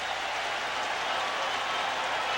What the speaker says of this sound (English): And the crowd here at the Silverdome is pumped up.